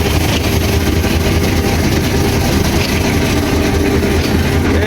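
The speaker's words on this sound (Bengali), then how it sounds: "এই লাইন ক্লিয়ার অনুযায়ী ট্রেনটি সামনের দিকে এগিয়ে যাবে।" A train rolls forward past a red danger signal, moving on a paper line clear after a signal failure; a loud, steady broadband rumble of wheels and engine fills the scene continuously without any talking.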